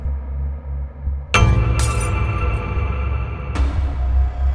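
A sudden loud crash of glass shattering, followed by tinkling debris and a second sharp break a couple of seconds later, no voices.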